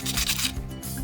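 Old paint being sanded off a rusty SIV Simaers hydraulic brake lever gives a close, continuous rough rasping that shifts in texture as strokes change.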